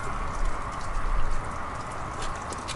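Steady rain falls outdoors during a rare wintry day in Houston, Texas, a continuous broadband hiss of drops on surfaces with no pauses, fairly close and even in loudness throughout.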